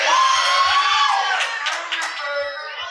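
A wrestling crowd cheering and shouting in an arena, a steady roar of many voices with whoops rising above it, heard loud and close.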